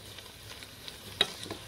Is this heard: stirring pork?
yes